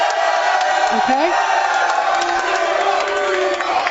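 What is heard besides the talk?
studio audience cheering for the Seahawks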